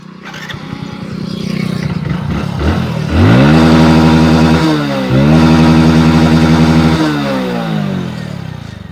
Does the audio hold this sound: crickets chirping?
no